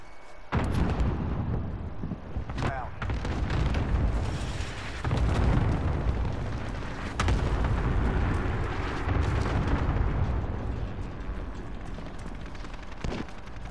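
A frag grenade explosion in Call of Duty: Modern Warfare booms out loud, then gives way to a long, rumbling wash of repeated blasts and battle noise that fills the scene for over ten seconds.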